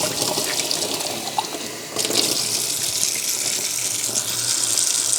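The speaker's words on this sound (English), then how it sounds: "I'm just going to run some water through it." Water run through a leaking BMW car part during a workshop leak test, a steady rushing tap-like flow that continues without pause, loud and close, no talking.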